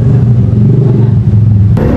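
A Yamaha Fazzio scooter engine runs at a close, steady, loud low rumble that holds even throughout, with a brief clattering change near the end and no talk.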